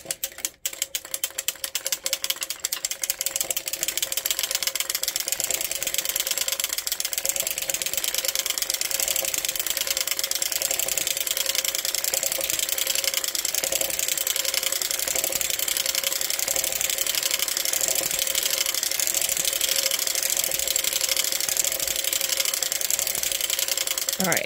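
Hand-cranked circular sock knitting machine running steadily, a continuous close mechanical clatter of needles and gears ticking at a fast even rhythm for the whole stretch.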